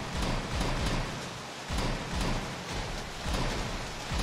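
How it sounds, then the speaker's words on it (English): Acid rain pours down in the video game Mutant Football League, a dense, loud, continuous hiss of falling rain with faint pulsing surges and low rumbles, with no voices. "the rain, the acid rain."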